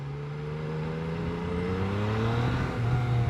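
A 2018 Yamaha Tracer 900 motorcycle engine accelerating, a close steady drone whose pitch climbs smoothly as revs rise, with no talking.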